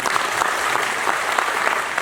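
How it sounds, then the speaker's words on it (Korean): An audience at a book concert in Ansan claps, dense continuous applause filling the room at close range, steady throughout with no speech over it. "큰 박수 한 번 더 부탁드리겠습니다"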